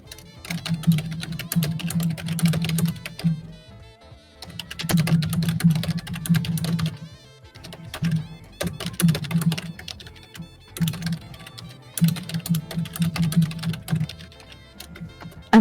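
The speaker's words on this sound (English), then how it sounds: "I have like a really loud keyboard." A loud computer keyboard clatters in bursts of rapid typing, dense clicks separated by brief pauses, close and prominent throughout.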